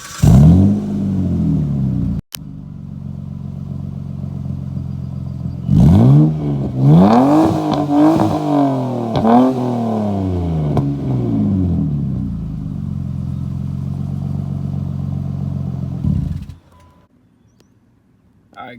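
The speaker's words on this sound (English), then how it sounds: "So now we're gonna do a startup of the car" A 2003 Mitsubishi Eclipse with a 3-liter engine cranks briefly, then starts and revs up and down several times before settling into a steady idle that cuts off at the end.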